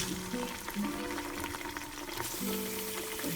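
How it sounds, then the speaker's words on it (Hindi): Mutton meat dropped into golden-fried onions in a pot for stew, a steady close sizzle with stirring clatter and faint watery bubbling throughout, no talking. "अब मैं इसके अंदर डाल दूंगी गोश्त"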